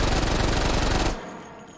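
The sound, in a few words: Mac 10 submachine gun firing with shroud in H3VR video game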